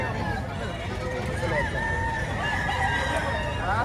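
Chickens and roosters at a busy Batangas chicken market crow and cluck close by over a steady hubbub of people talking, and one long crow rises clearly near the middle.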